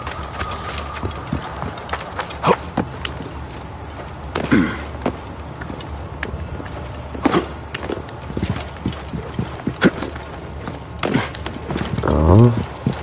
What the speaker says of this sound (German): Vielleicht ein Pferd.